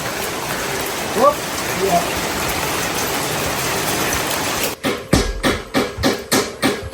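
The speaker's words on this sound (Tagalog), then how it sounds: "Ulan." Steady hiss of rain falling, followed near the end by a series of rhythmic knocking thuds.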